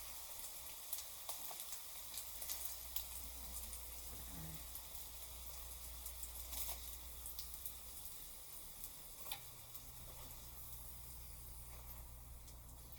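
Fry sizzling in a hot pan on a stove, a steady crackling hiss that runs alone throughout with scattered pops, fairly quiet and close.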